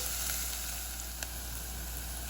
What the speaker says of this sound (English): Now you want to saute this for a few minutes until the onion becomes a little translucent.